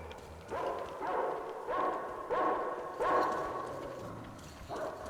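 A dog barks repeatedly in a video game, Metro Exodus, in a steady rhythm, about six evenly spaced woofs at moderate distance, with a faint background hum and no talking.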